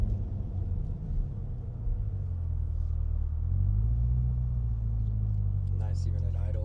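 A Corvette C8 idles with a low, steady rumble that swells slightly midway, while people talk over it close by.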